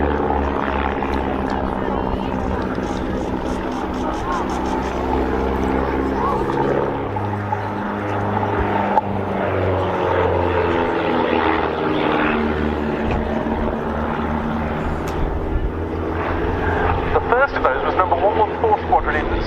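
Propeller aircraft drone past at the RAF Cosford air show, a loud, rough engine and airscrew roar that rises and shifts in pitch, steady throughout, with a commentator's voice talking over it.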